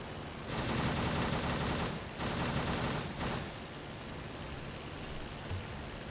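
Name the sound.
aircraft machine gun fire in the video game Rise of Flight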